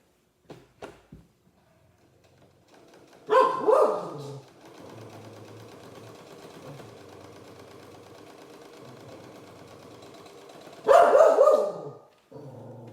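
A dog barks in two short loud bursts, separated by several seconds of a steady mechanical whir like a sewing machine running.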